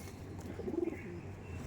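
A Madrasi pigeon in a loft coos softly in low, throaty murmurs, faint against a steady background hum.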